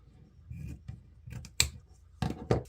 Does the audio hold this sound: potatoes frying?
no